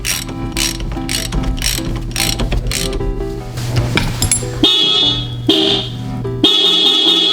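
Ratchet wrench clicking while bolting an aftermarket steering wheel hub into an FRS, a rapid run of close metallic ratcheting strokes with brief pauses and bright clinks between bursts.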